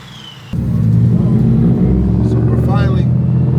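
A Ford F-150 truck running on E85 idles while warming up, a loud steady low engine rumble starting abruptly and holding close throughout, with people talking over it.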